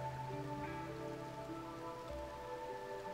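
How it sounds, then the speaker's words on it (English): Steady rain falls in the video game RimWorld, a soft continuous patter under sustained musical tones throughout. "It's still raining"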